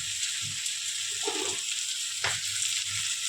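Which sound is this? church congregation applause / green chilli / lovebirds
green chilli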